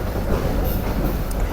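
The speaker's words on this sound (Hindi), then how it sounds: "शाह लतीफ़ एक्सप्रेस हमारी ट्रेन जो है वो ढाबी जी स्टेशन छोड़ रही है" Shah Latif Express train pulling out of Dhabeji station, a loud continuous rumble of rolling wheels and carriages heard from on board, with faint clatter and no talk.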